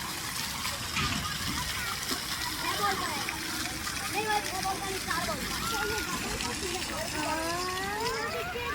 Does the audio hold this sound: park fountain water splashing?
yes